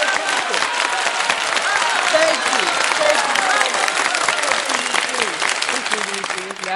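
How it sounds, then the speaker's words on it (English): A recorded applause sound effect on a web talk show, dense and loud crowd clapping that runs unbroken for several seconds, with voices talking underneath it. "Did you guys hear the clapping or the clapter, as I like to hear? Did you hear that sound effect?"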